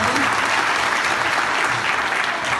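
Sustained applause fills a Turkish news broadcast segment as an audience claps warmly and steadily at a theater performance, dense and even throughout with no talk over it.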